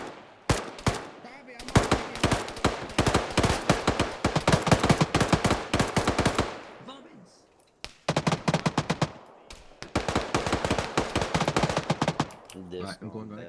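Loud automatic gunfire in the Arma 3 military simulation set with Soviets in Afghanistan: two long, rapid, close bursts separated by a brief pause, with a short spoken call in between.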